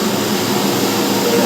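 A swimming pool pump motor runs beside its filter and valves, a loud, steady, broadband whirring hum with no change in pitch or level.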